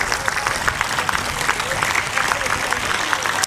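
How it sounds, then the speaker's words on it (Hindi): A large crowd at a stadium yoga event claps loudly and continuously, a dense, even wash of applause that fills the whole moment without pause. "एक बार अपने लिए जोरदार तालियां बजा ले"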